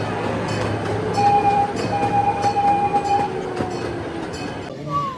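A small safari park train rolls along with a continuous rumble and rattle of wheels on track, thin tonal squeals rising and fading, and a voice speaking briefly over it.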